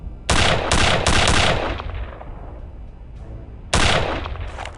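Automatic gunfire crackles in Return to Castle Wolfenstein as several sharp, loud bursts come in quick succession. A short pause follows, then another burst.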